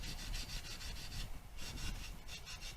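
Stratocaster guitar frets being polished by hand with light pressure to rub off old Sharpie and fine diamond grit bar marks; close, steady back-and-forth rubbing strokes in an even rhythm throughout.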